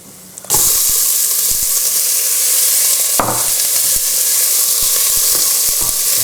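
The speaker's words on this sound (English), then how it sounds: "Now let's go in with the onions." Onions hit hot olive oil in a pot and erupt into a loud, close, continuous sizzle, with light clicks and taps as they are moved around. There is no talking.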